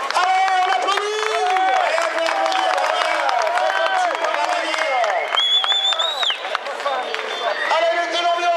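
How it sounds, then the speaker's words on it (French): Crowd at the Chambon-sur-Jeep off-road event cheers and claps under a loud announcer's voice and shouting, a continuous busy din of applause and voices close by. "Allez, on applaudit!"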